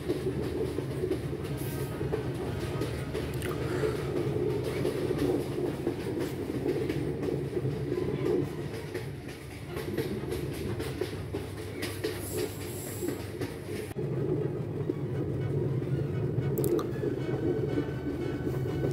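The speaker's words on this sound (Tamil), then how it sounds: "வேறு லெவல் ஸ்பீடில் இப்போ போய்கொண்டிருக்கு ட்ரெயின்" A high-speed train rushing along from Jaffna toward Colombo, a steady loud rumble with rattling wheels and wind noise throughout, no voices.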